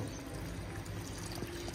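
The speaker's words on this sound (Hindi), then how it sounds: "ये देखिए पानी आ रहा है" Water gushing steadily from a pipe at a home, a continuous close, dense rushing pour with no speech over it.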